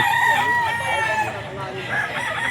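A Cuban hennie rooster at the Grotto pet market lets out one drawn-out cock-a-doodle-doo, loud and close, over a steady murmur of market noise.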